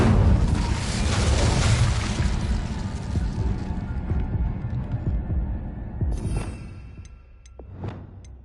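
In Hogwarts Legacy, an Incendio fire spell erupts in a loud, rumbling whoosh that swells and then fades, followed by a couple of short, sharp magical flares.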